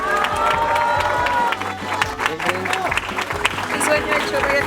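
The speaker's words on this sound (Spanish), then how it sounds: "Aplauso fuerte." Loud applause and cheering from a crowd at a new-house handover ceremony in Sotaquirá, Boyacá, clapping mixed with shouts and voices talking over it throughout.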